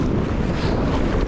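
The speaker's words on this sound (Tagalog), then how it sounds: "Tsaka malakas na rin yung hangin." Strong wind buffets the microphone at a seaside fishing spot, a steady, loud roar with no pauses and a wash of waves beneath it, no voices.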